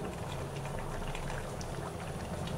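Khichuri simmers in a pot with fried potatoes set into it, a faint, continuous bubbling and gentle boiling that stays even throughout with no talk.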